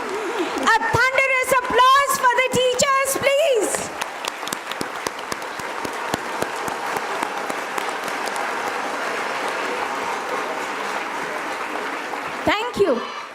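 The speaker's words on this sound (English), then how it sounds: "A big round of applause for our teachers." Audience applause at a school annual day, dense clapping that runs under and after a voice at a microphone, then fades as the speaking continues.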